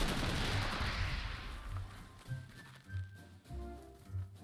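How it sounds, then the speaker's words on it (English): Artillery fire in the wargame Panzer Corps 2, a rumbling barrage that fades into a series of low, evenly spaced booms, with faint tonal game effects and no voices. "So we're going to start off with some artillery."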